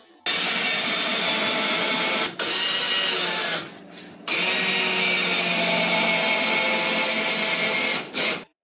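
A power drill drives screws into a wall-mounted coat rack, with two long whining runs separated by short pauses and a brief final burst, loud and close with no talk.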